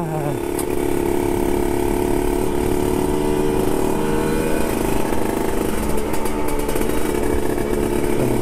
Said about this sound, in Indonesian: Aku tuh pakai ini motor.